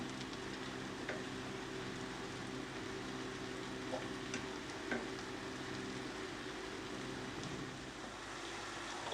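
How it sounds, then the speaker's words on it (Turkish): Mushrooms sauté uncovered in a pan over a high flame, making a soft, steady crackling sizzle with scattered sharper pops, fairly quiet and with no talk. "Mantarlarımız kavruldu."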